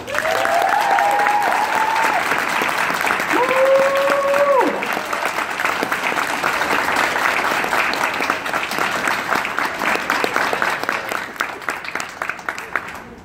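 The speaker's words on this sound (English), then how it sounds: "So give yourselves a round of applause." A convention crowd at an anime con's closing ceremony claps in a long, loud, sustained round of applause, with some cheering and whoops early on, gradually thinning toward the end.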